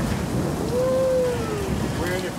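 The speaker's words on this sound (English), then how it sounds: "Now we got some hail." Heavy rain mixed with hail pounds steadily on a car roof during a storm, a dense continuous roar close by with a faint tonal whine drifting over it.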